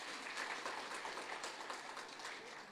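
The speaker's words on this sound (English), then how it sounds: "Just a round of applause." An audience at a strategic plan launch gives a round of applause, a faint, distant, even wash of many hands clapping that holds steady for a few seconds before easing slightly.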